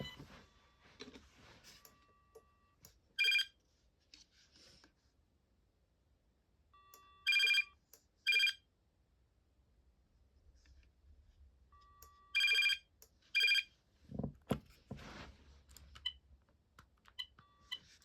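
A Binatone Icarus 2100 cordless phone's second ringtone sounds in four short electronic trilling bursts, paired then single, with quiet background and some low thumps near the end.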